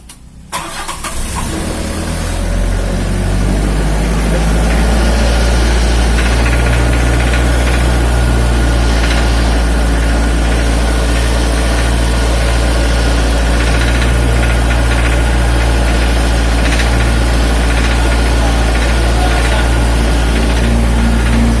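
A Miller Big Blue 500X Pro welder's engine cranks briefly, catches and then runs at a loud, steady low drone for the rest of the clip, with no voices.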